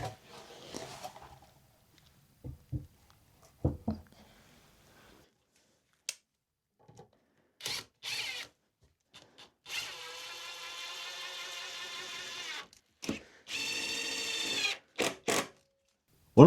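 Power drill driving screws into the wooden roof of a small cat shed, delivering short bursts and two longer sustained whirring runs separated by pauses and handling knocks, close up with no talking.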